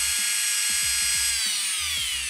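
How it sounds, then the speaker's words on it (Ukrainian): A rotary car polisher runs at its third speed of about 1900–2000 rpm, giving a loud, sustained high whine close by, with faint low knocks recurring under it. "третя передачка – це приблизно 2000 обертів"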